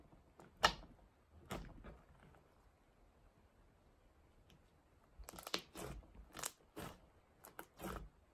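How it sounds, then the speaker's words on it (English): Thick, stretchy slime packed with foam chunks gives a few sharp, close crunches early on, then a quick cluster of crunching pops after a quiet pause, with no talking. "And the foam chunks give it a great crunch."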